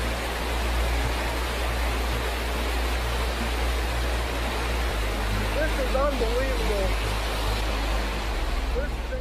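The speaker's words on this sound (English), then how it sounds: "Look at the waves." Rushing floodwater surges and churns after a heavy downpour, a dense continuous roar with a car nearby, while a person speaks briefly over it.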